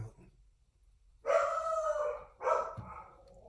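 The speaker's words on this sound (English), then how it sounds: "There goes my dog, who loves to bark incessantly for" A dog barking twice indoors, two loud, drawn-out barks about a second apart after a quiet stretch, close to the microphone with no talk.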